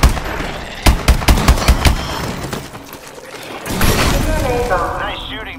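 Video game gunfire in a zombie infection challenge: a quick string of sharp, loud shots in the first two seconds, then a pause and a burst of clattering, shattering noise, with voices briefly heard.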